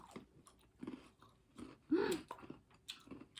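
Close-up chewing and biting of food, a series of wet, crunchy mouth sounds in an uneven rhythm, with one louder bite near the middle and no talking.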